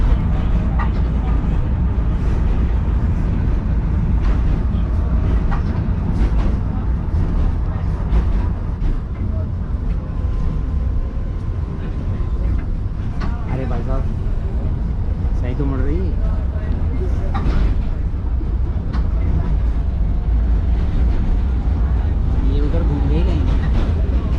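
A Belgrade city tram on route 12 rumbles steadily from inside the car, a continuous low rolling drone with faint clanks and squeals, while passengers talk throughout.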